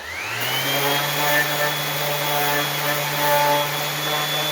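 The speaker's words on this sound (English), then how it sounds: "I'm going to go ahead and start sanding this." An electric sander runs steadily on a tree cookie, a wooden cross-section, with a sustained whine that rises as it spins up, then holds an even, loud drone with light pressure throughout.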